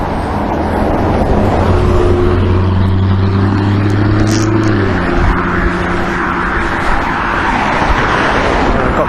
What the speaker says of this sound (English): I've got cars waiting behind again